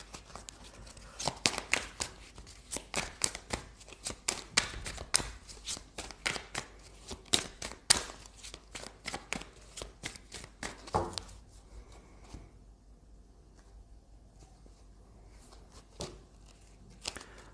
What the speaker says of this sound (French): Tirer quelques cartes.